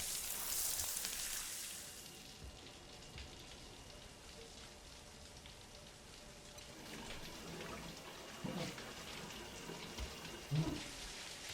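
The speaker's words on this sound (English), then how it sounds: "take a shower." A shower runs steadily in the Death Stranding video game, with water spraying and splashing in a continuous wash and a few louder splashes near the end.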